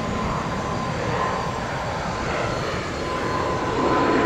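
A NetJets executive jet at Tampa airport produces a continuous, loud, broadband engine roar that holds steady and swells slightly toward the end, with no speech over it.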